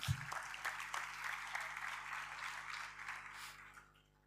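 An audience applauds the sound system crew at a Marathi literary society's statue unveiling ceremony, a moderate burst of clapping that swells and then gradually fades.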